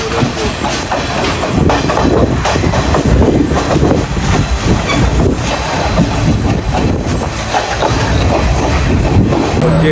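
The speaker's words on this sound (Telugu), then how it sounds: "మేము వచ్చిన ట్రైన్ ఇది." Passenger train in Sri Lanka, arriving at Colombo, rumbling steadily on its rails with clickety-clack wheel sounds and occasional squeals, loud and close throughout.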